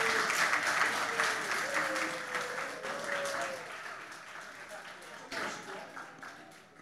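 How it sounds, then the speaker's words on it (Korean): A church congregation at a Christmas service in Chile applauds to welcome a child after a Sunday school certificate, steady clapping throughout with a voice speaking over it. "많은 박수로 환영해 주시기 바랍니다."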